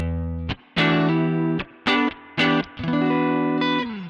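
An electric guitar played through a Koch 63'OD all-tube overdrive pedal into an amp with reverb rings out in a few chords and short bursts separated by brief gaps, crunchy and sustained, with a light reverb tail.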